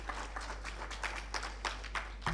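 Applause from a conference audience in a hall, with dense overlapping claps and a few sharper individual hits standing out, continuing steadily throughout.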